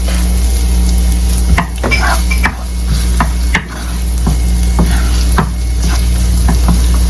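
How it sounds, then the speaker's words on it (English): Garlic softening in melted fat in a pan for rice noodles, giving a steady close sizzle with a spatula stirring and scraping the pan in irregular knocks. "we are adding the garlic. We don't also want our garlic to burn"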